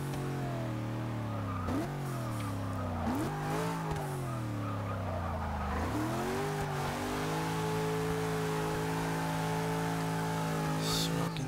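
A 1974 Toyota Corolla SR5 in Forza 6 revs hard in repeated rising surges while spinning its smoking tyres, the engine note climbing and dropping before holding a high steady drone under a constant tyre squeal.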